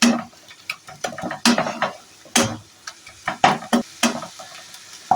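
Ginger garlic paste frying with onions in a pan, close sizzling under a rhythmic series of loud spatula scrapes and knocks against the metal, no talking.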